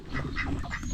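Ducks quacking in a busy cluster, several calls overlapping at close range against steady background noise.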